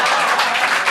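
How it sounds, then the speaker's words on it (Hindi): Audience applause during a live poem recital, a dense, loud wash of clapping filling the whole brief moment. "ये जो तालियां बज रही हैं टीआरडी के लिए"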